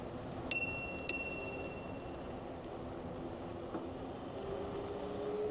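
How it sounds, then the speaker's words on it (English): Two bright metallic rings of a bicycle bell on a Velotric Nomad 2 fat-tire electric bike, struck in quick succession near the rider, followed by steady outdoor riding noise. "We're gonna have to hit them with the bell."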